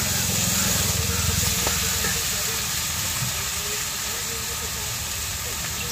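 Potatoes and green chillies frying in a pan over a village cooking fire give a steady, close sizzle and hiss throughout, with soft stirring scrapes and occasional low thumps underneath.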